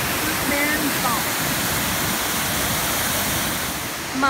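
Steady roar of falling water at Routeburn Falls, New Zealand, loud and continuous, like standing near a waterfall.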